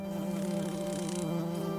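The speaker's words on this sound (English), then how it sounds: "listened to the insects and bees." Steady, close buzzing of insects and bees in woods holds without a break, with a higher whining layer that fades out partway through.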